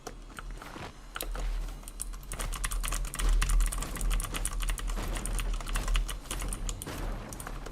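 A computer keyboard clicks rapidly and continuously while someone types. The keystrokes are close and loud in dense, irregular bursts, with a low hum underneath.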